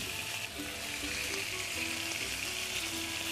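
Steady close sizzle of beans being pan-fried in oil for an Armenian stuffed dish, a dense continuous hiss with faint tonal clinks, no voices.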